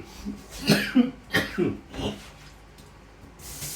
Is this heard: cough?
yes